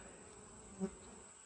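Honey bees buzz faintly around an open hive during an inspection, a thin steady drone with one brief louder pass of a single bee close by.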